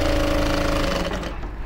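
A sewing machine runs continuously, stitching through fabric with a fast, even mechanical whir that stays close and steady for the whole brief stretch.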